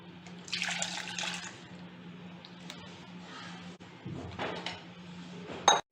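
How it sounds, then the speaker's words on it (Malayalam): A strained fruit salad sauce mix made without custard powder is poured into a saucepan in two wet, sloshing bursts, with a quiet gap between them and a sharp knock at the end. "നമുക്ക് ഈ മിക്സ് ഈ സോസ് പാനിലോട്ട് മാറ്റാം"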